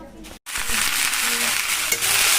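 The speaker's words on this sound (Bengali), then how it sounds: "এই যে এখানে পাঁচ মিশালি ভাজাটা বসিয়েছি" Mixed vegetables with potato and soybean frying in a pan, giving a steady close sizzle that runs almost the whole time after a brief silent gap near the start.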